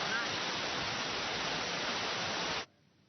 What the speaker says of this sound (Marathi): धबधबा हा आता ओसंडून वाहायला सुरुवात झाली आहे